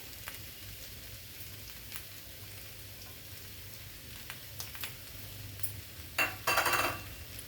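Potato fry (urulaikizhangu varuval) sizzling steadily in a pan, with a few sharper crackles and a burst of stirring scrapes near the end; no talking.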